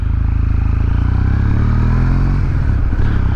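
A 2022 Kawasaki W800 motorcycle engine runs smoothly and fairly quietly up close, with a steady low throb that rises slightly in pitch midway before settling, heard alone without speech.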